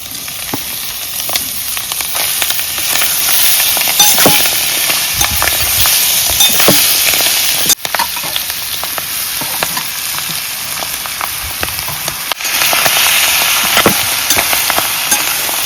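Potatoes fry in hot spiced tempering oil in a village-style Malvani cooking pan, giving a loud, steady sizzle that runs unbroken with no talking.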